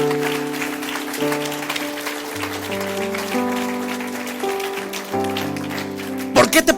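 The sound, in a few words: congregation applauding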